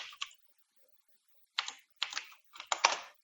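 Computer keyboard keys are typed in short bursts of clicks, a quick pair and then three clustered runs of tapping, close and fairly quiet with silent gaps between.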